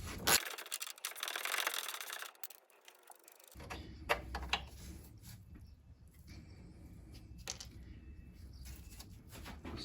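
Ratcheting and metallic clicks from a wrench undoing the 18mm and 15mm nut and bolt on a Ford Ka front suspension arm, a broadband burst followed by intermittent close mechanical ticks over a low background hum.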